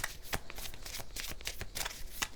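Angel tarot cards are shuffled by hand: a quick, close run of papery riffles and flicks, repeated several times in a fast rhythm.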